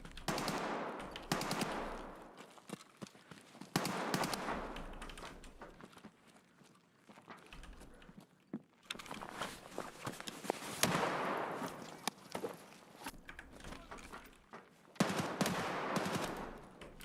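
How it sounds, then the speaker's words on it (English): Rapid bursts of rifle fire from a G36 set to burst mode in a video game, with repeated short volleys clustered into several loud stretches and quieter gaps between them. "there's burst fire on G36?"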